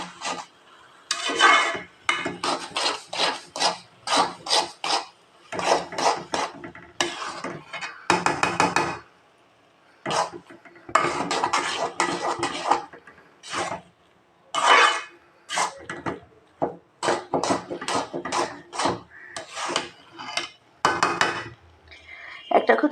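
Chickpea halwa is stirred steadily in a cooking pot, producing repeated close scraping and clinking strokes in bursts separated by short gaps, with a voice talking at times.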